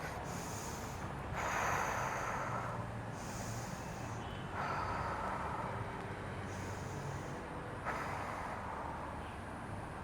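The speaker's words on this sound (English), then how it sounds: "Breathe in through the nose now" Deep breaths drawn in through the nose during a breathing exercise, three long airy inhalations in a slow rhythm, each followed by a quieter pause, close to the microphone with no talking.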